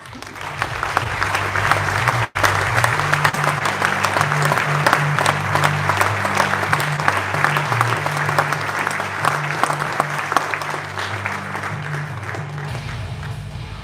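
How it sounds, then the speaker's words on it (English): A large audience applauds steadily at a KTM MotoGP team presentation in Mattighofen, dense continuous clapping filling the room with a low musical hum underneath, a brief dropout partway through before the applause resumes. "a big applause to, of course, the CEO of KTM, Stefan Pira"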